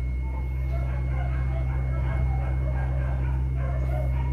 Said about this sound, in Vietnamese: nghe tiếng ào ào ào, nó tiếng là chó sủa là đang cho ăn á, giờ cho ăn là nó nhoi lên vậy